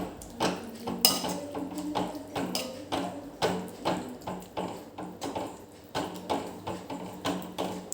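A spoon stirs lasuni palak (garlic spinach) with added paste and a little water in a pan, making repeated close clinks and scrapes against the metal in a steady, roughly half-second rhythm.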